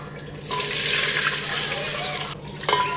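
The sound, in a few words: water being poured into a pot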